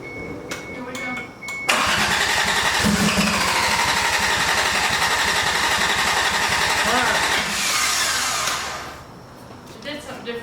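A 1988 Toyota Supra with a 1JZ engine cranks hard and steadily for several seconds, the starter churning loudly with sputtering attempts to catch before it winds down, with brief talk at the start and end.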